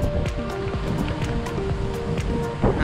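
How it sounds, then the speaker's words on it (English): Strong wind buffets the microphone of a cyclist riding outdoors, loud rumbling gusts in a constant roar that surges again near the end. "Oh god, it's windy."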